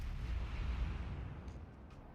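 Booming naval gunfire in World of Warships as an enemy ship fires armor-piercing shells: a dense, continuous low rumble of shots and impacts, loud and sustained, with no talk.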